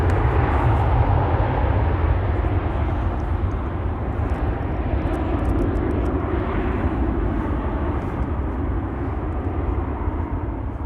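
A KLM airliner departs Amsterdam Schiphol bound for Barcelona, its jet engines producing a loud, steady roar with deep rumble that holds throughout, with no voices over it.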